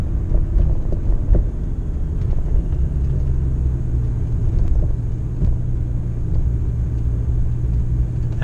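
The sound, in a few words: Ford Mustang engine at wide open throttle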